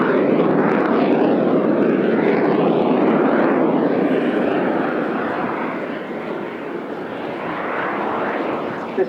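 An aircraft flies overhead at the Eastbourne Airshow 2025, its engine producing a loud, continuous broad roar for several seconds that swells and eases slightly as it passes, with no clear talking over it.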